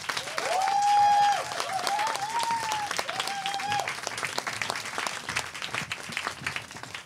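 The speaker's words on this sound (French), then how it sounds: "et sous vos applaudissements" A crowd applauds a performer being welcomed to the stage, with steady dense clapping throughout and a few cheers or whoops rising over it early on.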